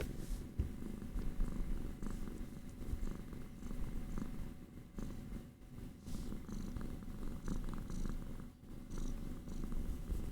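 A cat purrs steadily right against the microphone, a continuous close rumbling that runs throughout with slight rubbing and scratching noises on top.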